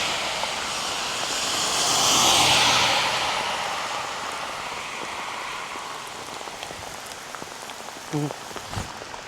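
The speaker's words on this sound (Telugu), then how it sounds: "వాన మాత్రం రెచ్చిపోతుంది, పొట్టు కొడుతుంది." Heavy, non-stop rain pours down on a cycling trip from Italy to Slovenia as a dense, steady hiss that swells louder early on, with a rumble like a passing aircraft and a brief voice near the end.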